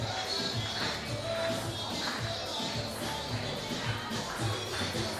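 At an athletics invitational, a stadium crowd claps in a steady rhythmic beat to support a jumper on the runway, a diffuse, moderately distant murmur of hands and voices.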